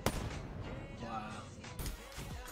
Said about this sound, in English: I keep shooting with my RK5